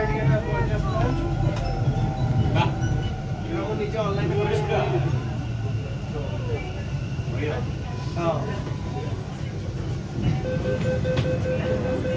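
A metro train runs with a continuous low rumble and occasional rattles, and voices talk close by over the running noise.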